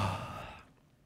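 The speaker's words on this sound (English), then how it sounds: "And now, push the air out of your body for an exhale." A person lets out one long, audible breath, a close and fairly loud breathy rush that fades away within about half a second.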